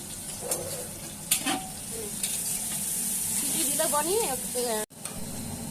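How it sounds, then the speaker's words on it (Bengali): Onions sizzling in hot oil with pointed gourd for biryani, a steady frying hiss throughout with a brief sharp clatter, some faint background voices and a short break near the end. "এখন পেঁয়াজটা লাল লাল করে ভাজা হয়ে গেছে"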